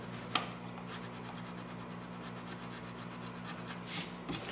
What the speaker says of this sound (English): And again, I went over areas with the stick sanders.